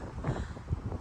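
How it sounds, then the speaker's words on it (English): Wind buffets the microphone during outdoor cycling at elevation, a continuous rough low rumble with gusty swells, loud and close. "It's a bit windy, as you can see."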